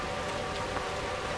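Steady rain of blood falls in the horror game Outlast 2, a continuous wash of dense patter that stays even and close throughout, with no voices over it.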